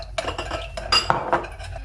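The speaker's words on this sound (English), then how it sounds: "Mix everything very well" A utensil clinks and scrapes against a bowl in quick irregular strokes while a dressing of lemon juice, Dijon mustard and sweet chili is whisked together, close and fairly loud.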